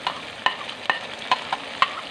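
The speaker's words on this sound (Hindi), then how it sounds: "इसके बाद हम डालेंगे टमाटर।" Tomatoes stirred in a hot frying pan, heard as six sharp, evenly spaced utensil clacks and scrapes over a low, constant sizzle, close by and without speech.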